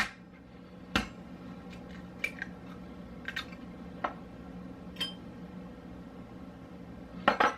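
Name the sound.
cracking eggs into a bowl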